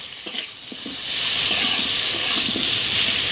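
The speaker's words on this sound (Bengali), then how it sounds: "আমি এখন আলুটাকে ভেজে নিচ্ছি।" Potatoes coated with turmeric sizzle steadily in a hot pan for a Bengali rui fish curry with drumsticks, with scattered scrapes and clinks of a spatula stirring them throughout; no voices.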